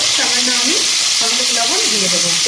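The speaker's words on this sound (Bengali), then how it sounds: "এই একই তেলের মধ্যে আমি আলুগুলো দিয়ে ভেজে নেব" Potatoes frying in the same hot oil used for cauliflower, a steady bright sizzle throughout with a faint voice-like tone drifting over it.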